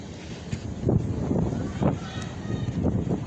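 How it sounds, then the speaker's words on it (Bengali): Strong gusty wind during Cyclone Remal in Bangladesh, a rough buffeting roar on the microphone rising and falling in bursts, with voices talking over it. "অনেক বাতাস তো বাতাসে ধাক্কা দিব কিন্তু অনেক বাতাস"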